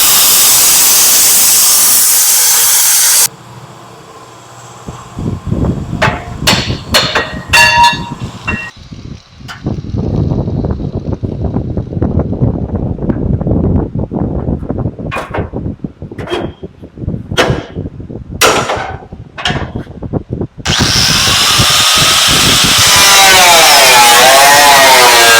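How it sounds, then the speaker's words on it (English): Power tool cutting off welded front mounts on a truck frame during a Dodge and 1970 Chevrolet C20 core support swap, loud harsh hissing and grinding bursts broken by sharp metallic strikes and pauses. "going to cut off these front mounts we made on both sides"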